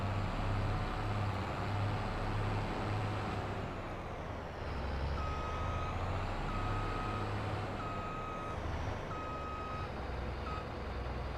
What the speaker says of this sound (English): let's get the combine hooked up to the trailer and we'll head over to the oat field.